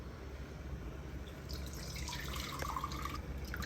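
Tamarind water being strained and poured while making a prawn kara kuzhambu, heard as a soft, steady trickle and drip of liquid that grows a little fuller midway, close and alone with no talking.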